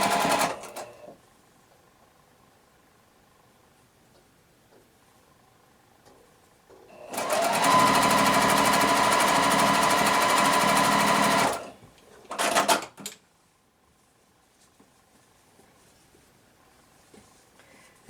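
A sewing machine stitches quilt pieces for a large house block in one loud, steady run of several seconds, then a short second burst, with quiet room tone before and after.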